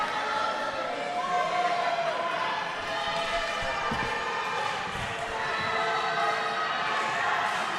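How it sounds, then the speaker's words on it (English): A basketball crowd at an exhibition game against an All-Star team makes a continuous roar and cheer through the arena, with voices talking over the steady wash of noise. "You can hear the crowd really pumping the All-Star team."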